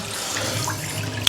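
Warm water runs steadily from a tap into a sink for washing clothes, a close continuous rush with no talking.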